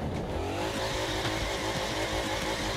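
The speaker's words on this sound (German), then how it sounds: "Schön die Reifen schon mal aufwärmen." A car in The Crew 2 racing game spins its tires in place to warm them, a continuous engine drone with rising whine and tire squeal, steady and moderately loud, with no voices.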